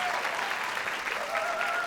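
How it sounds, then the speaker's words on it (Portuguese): Audience applause, a continuous burst of many hands clapping for the full moment, fairly full and close, with a faint tone running beneath. "aplaude bem forte o Arthur e o Thiago."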